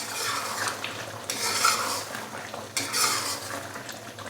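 Chicken white karahi with finely chopped green chillies and ginger being stirred in a metal pot, with spoon scraping against the sides in a couple of bursts over a steady low hiss of cooking.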